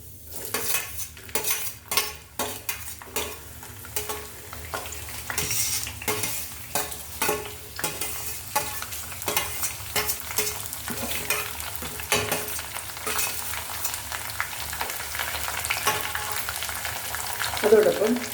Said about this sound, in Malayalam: അതോടൊപ്പം വെണ്ടയ്ക്കയും ഈ തക്കാളിയും എല്ലാം കൂടെ ഒന്നിച്ചിട്ട് നമ്മൾ വഴറ്റുന്നു.